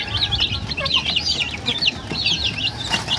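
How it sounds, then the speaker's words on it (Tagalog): Five-day-old pet chicks peep continuously in a dense, high chorus while they eat, with soft scratching and pecking underneath; no talking. "Yan yung ating mga alagang sisiw guys."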